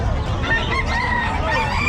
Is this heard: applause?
no